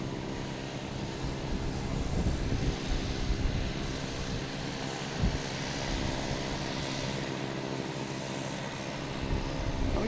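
A Spirit Airlines airliner arriving at Boston Logan from Charlotte, a continuous broad jet engine roar heard from a distance, steady with slight swells.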